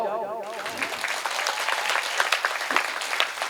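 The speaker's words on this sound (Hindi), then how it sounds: "ताली बजाओ" An audience at a Hindi poetry recital bursts into applause just after a voice at the start, a full, sustained clatter of many hands that carries on evenly.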